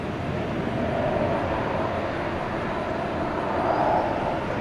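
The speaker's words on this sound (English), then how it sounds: "Flight 1694 to San Diego, and Airbus A321." An Airbus A321 airliner, flight 1694 to San Diego, runs at DFW Airport at night with a steady, broad jet roar of moderate loudness that swells slightly toward the end, with no one talking.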